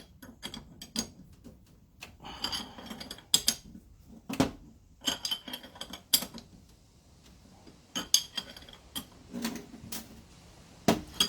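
A nut being tightened to pull a poly bush centre cap through on a Mondeo Mk3 rear subframe: irregular close metallic clicks, ratcheting and creaks in bursts with short pauses between.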